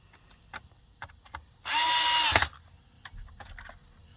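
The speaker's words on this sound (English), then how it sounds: "Now I'm going to go around and tighten my screws." A power screwdriver whirs in one short burst, driving a screw into the front bumper of an iRobot Roomba S9, surrounded by light plastic clicks and handling taps.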